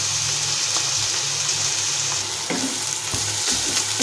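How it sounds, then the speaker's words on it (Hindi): Onions frying in a pan for baingan bharta, a loud continuous sizzle with a few stirring scrapes and clicks in the second half. "प्याज को मैं भूनने दूंगी।"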